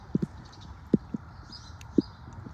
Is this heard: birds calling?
no